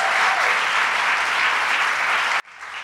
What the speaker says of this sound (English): Another round of applause for Deborah Glick.